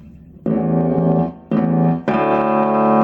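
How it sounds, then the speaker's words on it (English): A cheap bass guitar played through a Zoom B2 effects pedal on an echo preset, three sustained bass notes with brief gaps, each ringing out with a smeared, repeating tail. "Another echo setting."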